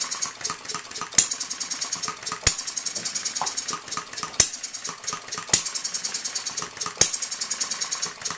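Economy hit-and-miss model engine running slowly at a little under 500 RPM, its regular popping firing strokes spaced about a second apart over a steady mechanical clatter, close and fairly loud with no talk.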